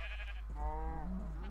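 A Minecraft sheep lets out a single short bleat, clear and close over a low steady hum.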